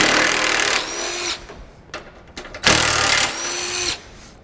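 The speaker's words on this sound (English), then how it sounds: "Power tools, awesome." A power drill or driver whirs in two short, loud bursts, spinning up and winding down with a pause between, while headlights are replaced on a 2003 Dodge Ram 2500 pickup.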